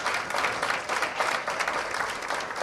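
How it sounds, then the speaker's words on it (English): Audience applause at a Justices of the Peace commissioning ceremony in Kingston, Jamaica: dense, steady clapping from a seated crowd filling the whole stretch, moderately loud and even without a clear rise or fade. "Please give a round of applause to all your supporters"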